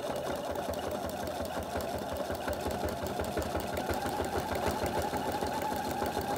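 A sewing machine doing free-machine embroidery of tiny flower petals on a vintage caravan design, with a steady, fast, mechanical stitching rhythm that runs close and continuous and has no talking.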